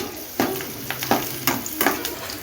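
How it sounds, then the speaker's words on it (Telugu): Onions and green chillies fry in a pan toward golden brown, a steady sizzle broken by several sharp scraping stirs at irregular intervals. No voices. "బ్రౌన్ కలర్ వచ్చేంత వరకు బాగా ఫ్రై చేసుకోవాలి ఆనియన్స్ అండ్ పచ్చిమిర్చి"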